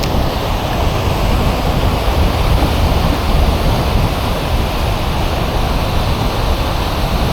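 Fast-flowing water of the Fox River between dams rushes in a loud, continuous broadband roar close by, steady throughout with no talk.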